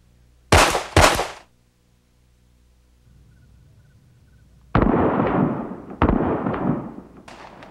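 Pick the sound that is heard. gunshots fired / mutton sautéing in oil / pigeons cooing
gunshots fired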